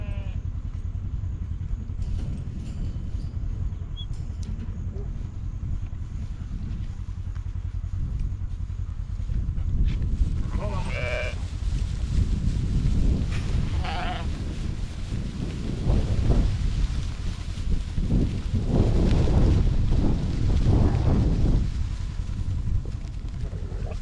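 Sheep bleat on a drought-hit farm, several calls scattered through the second half over steady wind noise and low rumble, fairly close, with no speech.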